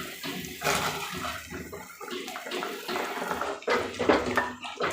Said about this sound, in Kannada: ಈಗ ಇದಕ್ಕೆ ನಾವು ಹೆಸರು ಕಾಳನ್ನ ಸೇರಿಸ್ಕೊಳ್ಳೋಣ